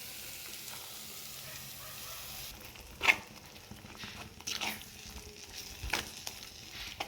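Ground coconut paste poured into a hot pan for a tomato and egg curry, with a steady frying sizzle and a few sharp stirring and pouring bursts against the constant hiss.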